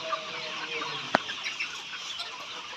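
Layer hens at a poultry farm give soft, distant clucks over a quiet background, with one sharp, brief cluck standing out near the middle.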